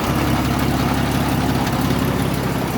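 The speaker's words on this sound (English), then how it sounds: "I've got an exhaust leak right here somewhere." An old Chrysler engine idles close up with an exhaust leak, a steady, loud low rumble with a dense hissing, puffing texture throughout and no talk.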